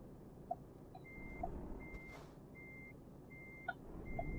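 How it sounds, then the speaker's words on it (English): Truck reversing beeps from Euro Truck Simulator 2 while a lorry backs toward a trailer at a tight lumber yard, a steady run of evenly spaced electronic beeps over a low engine rumble, with a couple of brief clicks. "hopefully reverse back to the trailer"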